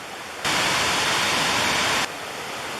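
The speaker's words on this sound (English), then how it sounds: "now we arrive at the base of Mae Ya Waterfall" Mae Ya Waterfall in Chiang Mai's Doi Inthanon National Park, a very large, high waterfall, roars as a loud, steady broadband rush at its base, swelling abruptly for about a second and a half before easing back to a softer constant wash.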